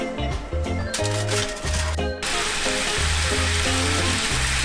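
Pieces of fish cooked with garlic and lemon in a pan give a steady, bright frying sizzle that starts abruptly partway through and continues under a rhythmic background music track.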